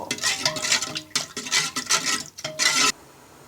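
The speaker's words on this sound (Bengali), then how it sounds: "এবার দইটা দুধের সাথে ভালো করে মিশিয়ে নিব" A spoon stirs sweet yogurt into warm milk in a metal pot, several close scraping bursts of stirring with brief pauses, no talk.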